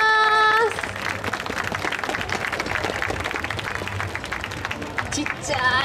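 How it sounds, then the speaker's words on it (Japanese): Crowd applause after a samba performance by Escola de Samba Kobecc at Samba Festa Kobe 2014, steady clapping under a ringing musical tone at the start and a voice near the end. "大きな拍手をお願いいたします"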